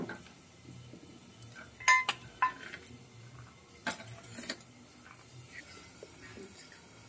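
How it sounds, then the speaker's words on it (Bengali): A metal pot lid clinks and rattles faintly as it is lifted while onions cook, with a few light metallic taps over a soft kitchen background. "একটু ঢাকনাটা খুলে দেখে নিই পেঁয়াজটা একটু নরম হয়েছে নাকি"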